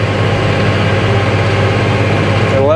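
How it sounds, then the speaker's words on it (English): A tractor engine runs steadily while planting peanuts, a loud continuous low rumble with an even drone and no break. "Sitting in the tractor."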